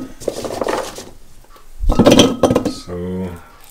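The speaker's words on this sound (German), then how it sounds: "Machen wir die Gläser voll." Vegetables such as Brussels sprouts, garlic and paprika dropping into glass jars for fermenting, giving a short cluster of glassy clinks and knocks midway, framed by low kitchen voices before and after.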